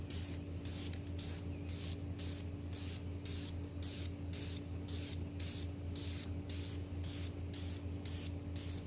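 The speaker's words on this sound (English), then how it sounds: "So you want to kind of like, just kind of spray a couple times" Spray paint hissing from a can onto a mirror in steady back-and-forth passes, a regular rhythm of about a dozen close, even bursts with short gaps between them.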